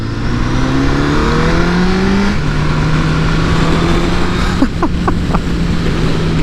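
A sport motorcycle climbs through the revs in a steady rising drone, shifts up and climbs again, loud and close, with wind rush throughout and a few brief chirps near the end.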